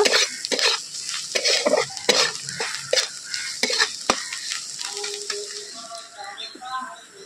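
Pointed gourd being stirred in a pan with turmeric, coriander-cumin powder and Kashmiri chili powder: a rhythmic scraping of a spoon against the pan over a soft frying sizzle, close and clear.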